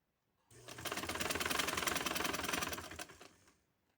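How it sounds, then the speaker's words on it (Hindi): A sewing machine stitches the hem of a salwar with cutwork design in a rapid, even burst of needle clatter lasting about three seconds, close and clear, with no talk. "और अब मैं इसको सिलाई लगाने लगी"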